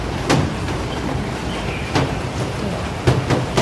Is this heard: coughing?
no